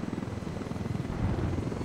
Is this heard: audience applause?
no